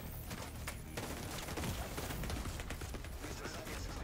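Rapid gunfire in The Division 2, Warlords of New York expansion, dense bursts of shots crackling continuously at moderate volume, with a muffled stretch at the start before the firing fills the scene.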